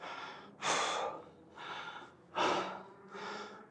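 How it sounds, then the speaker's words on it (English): Heavy, rhythmic breathing close by: four or five long, loud breaths in and out, with a slight rasp. "this video is going to be full of heavy breathing"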